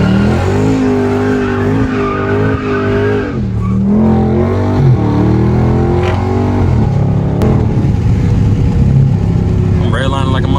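A Dodge Charger Scatpack engine roars loud and close at high revs, its pitch rising and falling as the car slides through a corner, with a tire squeal toward the end.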